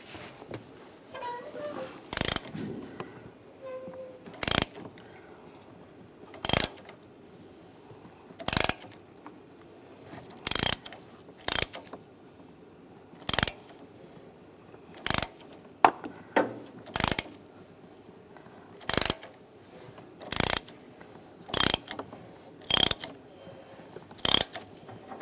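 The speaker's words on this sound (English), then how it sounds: "22mm O2 sensor socket, you can slide it right over the O2 sensor with a long extension. We'll loosen this up." Ratchet clicking as a 22mm socket on a long extension loosens the upstream O2 sensor of a 2006-2009 Mercedes-Benz E350, short sharp bursts of clicks repeating steadily at a close, quiet workshop distance.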